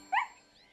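A dog gives one short, bright, happy bark, close and clear, followed by quiet.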